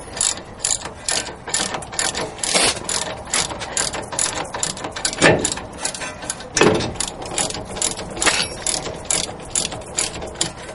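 A ratchet fitted with an extension tightens a wheel hub assembly, its pawl clicking in rapid, steady bursts up close for the whole stretch, with a few heavier strokes standing out.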